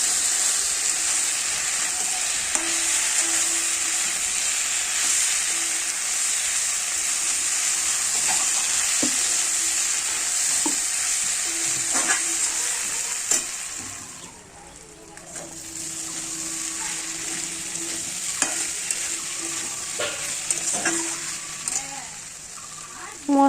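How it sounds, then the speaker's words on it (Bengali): Spices sizzling in oil in a pan for a potato curry, stirred with a spoon: a continuous loud frying hiss with scattered scrapes and clicks, dipping briefly midway before resuming. "দিয়ে ভালো করে নাড়াচাড়া করব।"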